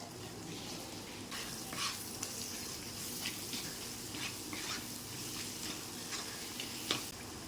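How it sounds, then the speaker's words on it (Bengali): Onions frying in a spiced paste for a Bengali tilapia curry over a low gas flame, giving a steady close sizzle with intermittent stirring scrapes and brief clinks throughout. "কষার সাথে সাথে আমি দিয়ে দেবো পেঁয়াজ।"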